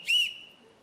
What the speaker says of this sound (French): Si vous continuez avec votre sifflet, on va pas vous comprendre